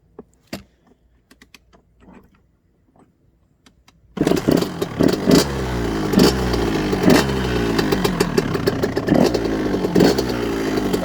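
A 1998 KTM 65 dirt bike fires up on the first kick after a few quiet clicks and clunks, then settles into a loud, raspy two-stroke idle with a rapid, uneven throb close by.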